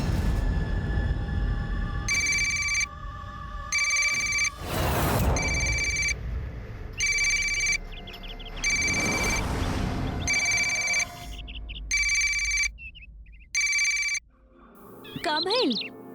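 A telephone bell rings in repeated bursts, about eight regular rings with short gaps, loud and close, while a dramatic musical soundtrack and whooshing effects play underneath.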